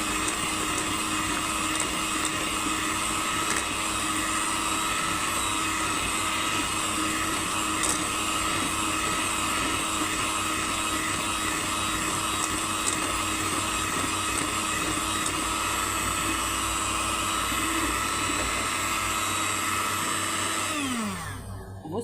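An electric mixer runs steadily at high speed, beating ghee for a cake cream in a home kitchen, a continuous loud whir that holds for about twenty seconds before winding down at the end.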